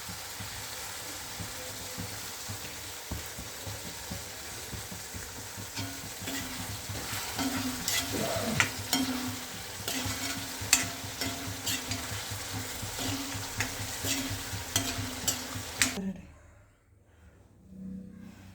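Nutmeg pickle stirred in a pan right after vinegar is poured in, giving a steady sizzle with scraping stirs and clinks for about sixteen seconds before it drops to near silence.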